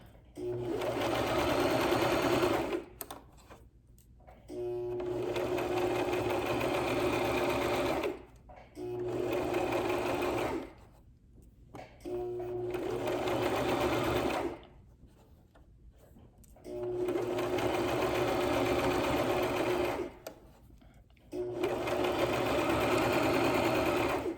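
Sewing machine stitching a fabric face mask, loud close bursts of rapid stitching lasting a few seconds each, separated by short pauses, with no talking.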